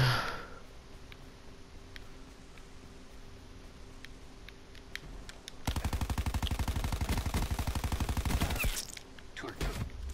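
Rapid automatic gunfire in a shooter video game, a sustained burst of fast repeating shots lasting a few seconds after a quieter stretch with faint scattered pops and a brief breath.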